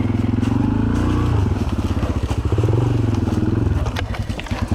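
A 125 cc motorcycle being ridden on a forest trail, its engine running steadily close by with rhythmic pulsing and small shifts in revs, and faint speech underneath.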